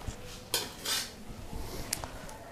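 A small metal spoon clinks and scrapes against dishware, a few light taps and a brief rattle over a steady low room hum, close by with no talking.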